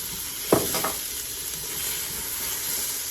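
Vegetables frying in oil in a pan for homemade vegan vegetable soup, a steady soft sizzle throughout with a brief clatter or pour near the start, no talking.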